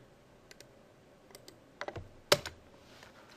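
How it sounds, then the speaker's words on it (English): Typing on a computer keyboard, with scattered single key clicks speeding into short bursts of tapping and one sharp louder keystroke near the end, close and alone. "Pardon my typing skills."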